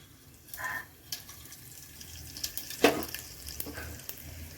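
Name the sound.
cumin seeds frying in hot oil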